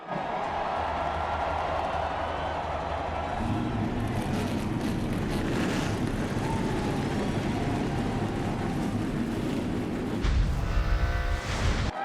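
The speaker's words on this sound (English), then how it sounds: "Drivers, start your engines!" NASCAR stock car engines starting up at Richmond's race track, a rising throaty rumble from many cars swelling over crowd noise, with a louder roar surging near the end.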